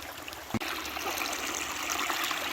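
Steady rushing stream water running beside a tent spot on the Appalachian Trail, a constant close wash of flow with one brief knock near the start.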